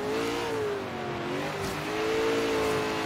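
A car drifting in Forza Horizon 3, with a sustained engine whine that wavers in pitch over a steady rumble of tyre and road noise, loud and close throughout.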